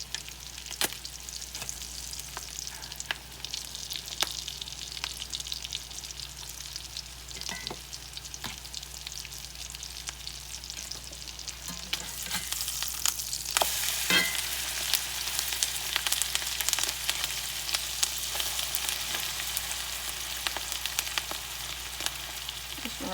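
Canned chicken patties bound with pork rinds fry in a pan with a constant, close crackling sizzle that grows slightly louder halfway through, dotted with faint spatters and ticks.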